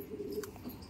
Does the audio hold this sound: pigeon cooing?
yes